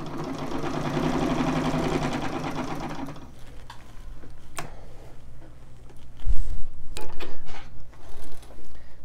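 A Singer 66 straight-stitch sewing machine runs at its longest stitch length, a steady, close mechanical whir for the first few seconds, then slowing to a quieter rattle with a few separate clicks and knocks as it stops.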